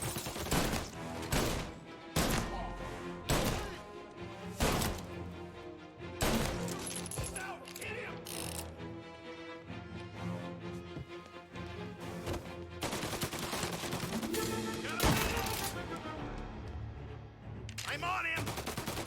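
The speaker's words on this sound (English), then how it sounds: "He's got a fucking machine gun." Machine gun fire in the video game Mafia, with repeated loud bursts and single shots spread across the stretch, fast rattling volleys mixed with heavier cracks and a busy background of game sound and voices.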